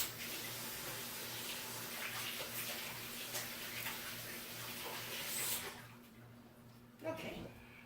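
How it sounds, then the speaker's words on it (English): Water runs from a kitchen sink tap while hands are washed, a steady broadband rush lasting several seconds before cutting off, followed by a brief clatter. "wash my hands"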